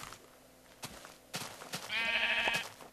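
A sheep in Minecraft gives one clear, short bleat after a few soft clicks and taps, at moderate volume.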